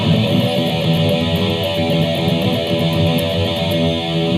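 An electric guitar rings out with sustained, unmuted notes that blend into a full, steady wash of tone, played alone without any voices.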